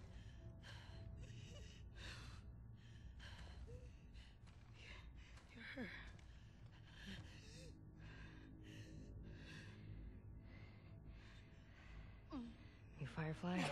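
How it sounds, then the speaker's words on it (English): A character in The Last of Us Part II breathes in ragged, laboured gasps and snorts, close and faint, repeating through the scene over a low ambient bed with bits of dialogue. "Your breathing's worse."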